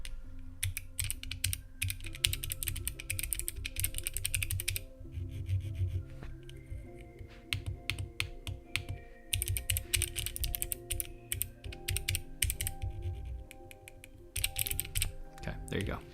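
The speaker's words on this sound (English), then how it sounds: "I'm just going to be pushing a bunch of keys" Rapid clacky keystrokes on a mechanical keyboard rattle in dense bursts with short pauses, close and fairly quiet, while a voice talks faintly in the background.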